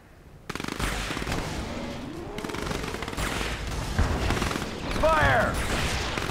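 Gunfire from units in Command & Conquer 3: Tiberium Wars, a continuous rattle of rapid machine-gun bursts and heavy shots starting abruptly, layered with battle noise and a brief whistling streak near the end.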